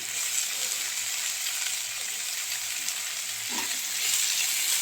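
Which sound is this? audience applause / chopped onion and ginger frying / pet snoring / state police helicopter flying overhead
chopped onion and ginger frying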